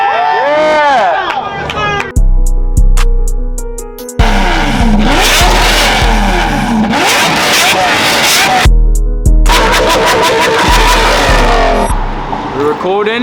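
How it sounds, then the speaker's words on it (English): A Mercedes engine revved hard at night, several loud bursts of revving with sharp throttle blips and pauses between them, while a crowd talks and cheers nearby. "I'm gonna rev this shit out of my Mercy real quick"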